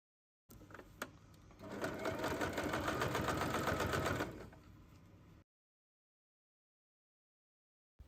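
A sewing machine top stitches the flap of a small fabric handbag, starting with a few slow stitches before speeding into a steady, close mechanical whir, then slowing and stopping, followed by silence.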